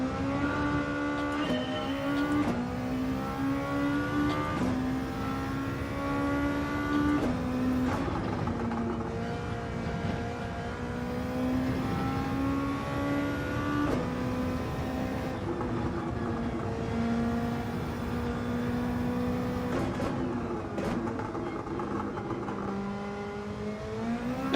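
Race car engine in Gran Turismo 7 revving hard through repeated gear changes, a loud steady engine drone with pitch rising and dropping, no voices.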